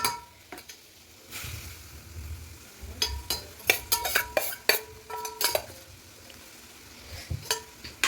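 A spoon scrapes and clinks against a pan in short bursts while sago bubbles and sizzles softly underneath on a full gas flame.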